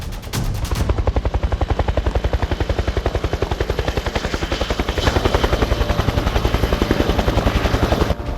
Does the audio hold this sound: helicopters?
yes